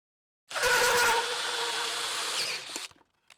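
A Ryobi 18-volt cordless drill bores through material in one steady, loud, high-pitched whine lasting about two seconds, then winds down and stops.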